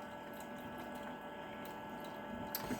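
Filtered water pours into a mason jar for homemade apple cider vinegar, a faint, steady trickling stream close by with a few soft clinks near the end.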